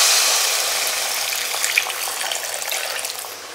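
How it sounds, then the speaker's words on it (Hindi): Hot water streams steadily into frying masala for a dry fish curry, making a continuous close hiss with fine crackling sizzle that fades slightly as it settles. "सो मैं इसमें गर्म पानी ऐड कर रहा हूँ."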